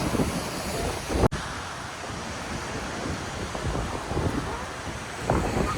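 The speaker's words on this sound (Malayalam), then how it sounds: "നമ്മളിപ്പോൾ ഇവിടെ പൈക്കാര വാട്ടർഫാൾസ് നമ്മളിവിടെ എത്തി" Rushing water at Pykara waterfalls makes a continuous broad roar, mixed with gusty wind buffeting the microphone and a sharp knock partway through.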